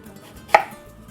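A knife comes down once through a large white onion onto a cutting board, giving a single crisp, close chop within an otherwise quiet kitchen.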